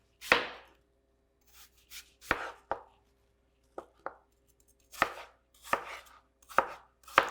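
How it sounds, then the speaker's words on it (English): Knife chopping an apple into small cubes on a cutting board, with about ten sharp, separate knocks spaced irregularly, each crisp and close with nothing between them. "Cut your apple into equal size cubes."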